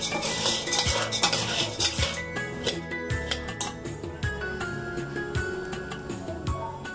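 Pieces of betel nut are mixed together in a bowl for mava, making a continuous close rattle of hard bits with frequent sharp clinks and knocks against the bowl.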